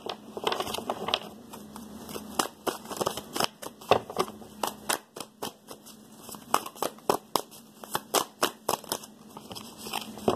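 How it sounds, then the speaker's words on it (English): Tarot cards are shuffled close up in repeated crisp riffling bursts, a dry papery snapping that comes in uneven rhythmic waves, with no talking. "One more shuffle like this."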